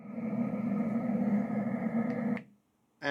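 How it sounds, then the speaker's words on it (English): A Letsfit white noise machine plays its fan sound, a steady whirring hum with a low drone, running evenly and close before cutting off, then a brief new sound starts. "This one's the fan sound."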